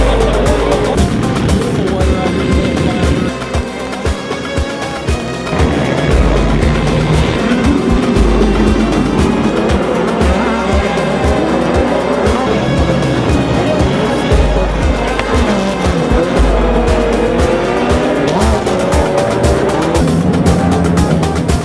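Off-road race trucks at Firebird Raceway, a continuous loud roar of engines revving and passing with shifting pitch and gritty, layered motor noise throughout, no voices standing out.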